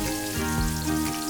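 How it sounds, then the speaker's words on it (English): Chopped garlic, ginger and green chili frying in hot oil in a pan, giving a steady close crackling sizzle throughout, with no talk. "and fry this for a few seconds"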